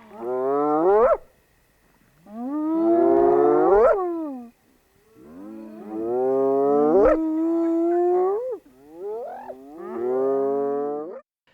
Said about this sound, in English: They're spotted hyenas calling at night.